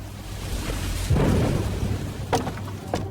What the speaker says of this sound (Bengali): অনেকক্ষণ ধরেই এই বৃষ্টি পড়ছে